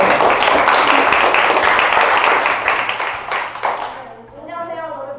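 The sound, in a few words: applause welcoming the experimenter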